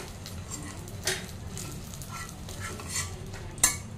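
Eggplant sizzles softly in hot oil in a pan, a quiet steady fry broken by a few sharp clinks of a utensil against the pan.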